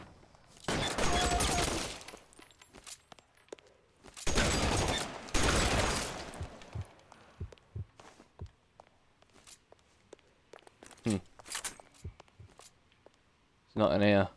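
Thompson submachine gun fire in the video game LA Noire: two long, loud rapid bursts early on, then scattered softer clicks and steps, with a sharp burst again at the very end.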